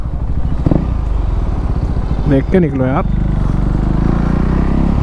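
A motorcycle, a Duke 390, rides past with a steady engine drone under a short burst of speech.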